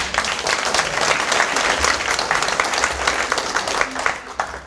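A conference audience gives sustained applause, many hands clapping in a thick, steady patter that rises and then begins to thin toward the end.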